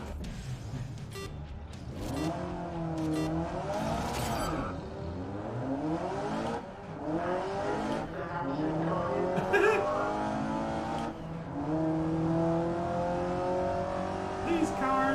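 A racing car's engine in GRID Legends revs and climbs through gears with a rising, falling whine under continuous talking, with steady road noise throughout.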